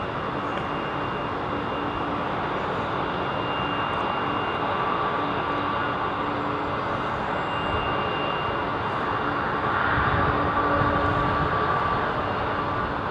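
An Airbus A318 lands at London Heathrow Airport with a steady jet roar that fills the whole stretch. The roar swells slightly toward the end, and no one speaks.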